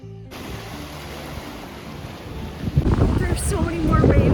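Gusting wind buffets the microphone on the coast of Rhodes, Greece, a steady rush that swells louder and rougher in the final seconds.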